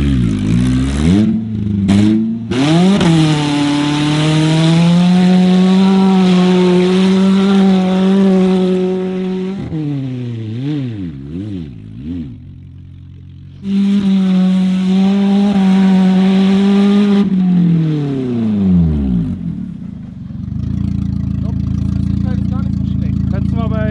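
A car engine revs hard and climbs through the gears with late shifts, rising whines dropping at each change, a pause near idle, then another strong pull before settling into a low rumble.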